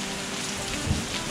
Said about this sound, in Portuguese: Deus mandou chuva.